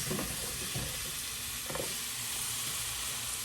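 Potatoes for methi aloo hit a hot pan and sizzle steadily, a broad hiss of frying with a couple of soft stirring knocks near the start, close and continuous with no talk.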